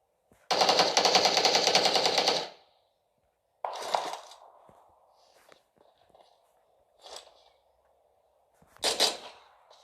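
Rapid automatic gunfire in a video game, a long loud burst followed by shorter bursts and single shots with quiet gaps between.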